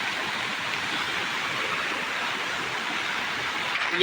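Steady rushing water flows beneath the Faridpur bridge, a constant broadband wash that stays loud and even with no voices over it.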